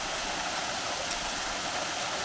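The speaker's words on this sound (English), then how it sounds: "here's the first waterfall you'll come to on the Rhododendron Trail" A waterfall on the Rhododendron Trail in Mount Airy, Georgia pours in a steady, even hiss of rushing water, continuous and fairly close with no voices over it.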